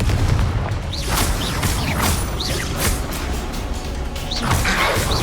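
Confringo fire spell blasts in the Hogwarts Legacy video game, a run of loud explosive bursts and crackling impacts spaced about a second apart over a dense, noisy battle background.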